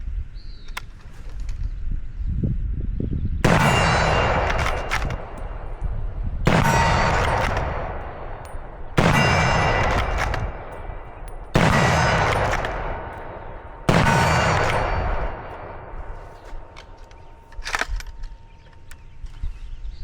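M1903A3 Springfield bolt-action rifle fired at close range, five loud booming shots spaced a few seconds apart, each followed by a long ringing decay and the metallic clack of the bolt being cycled.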